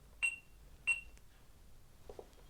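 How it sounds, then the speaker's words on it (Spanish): A Cecotec Conga 5090 robot vacuum gives two short, clear electronic beeps about half a second apart in a quiet room, followed by a couple of faint clicks. "Oímos 2 pitidos y como veis estas luces de aquí ya parpadean en color azul."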